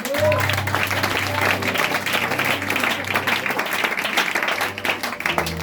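A church congregation claps and cheers loudly in acclaim to the Lord, sustained dense applause with shouting voices and a low sustained tone underneath.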